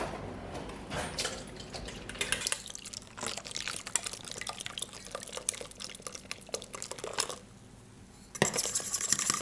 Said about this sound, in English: So let's get some beer in there.